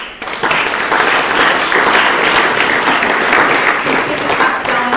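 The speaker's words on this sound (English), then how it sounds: "one more round of applause for everyone" Audience applause at a startup accelerator investor night pitch event in Melbourne, a dense, steady burst of clapping that swells quickly and holds loud for several seconds, with faint cheering mixed in.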